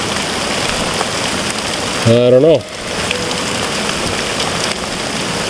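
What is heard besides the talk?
hail and rain falling during a storm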